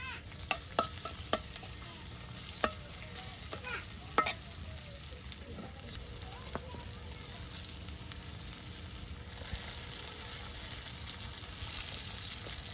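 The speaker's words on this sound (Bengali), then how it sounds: "এই যে তেলের ভিতরে কিন্তু আপনার পেঁয়াজ রসুন গুলো দিয়ে দেওয়া হলো" Onion and garlic frying in hot oil for a Bangladeshi vegetable dish, with a steady sizzle throughout, occasional sharp crackles and pops early on, and stirring noises, without any talk.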